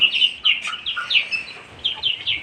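Young quail chicks peep close by in a rapid string of high, thin chirps, with short pauses between the calls and no voices over them.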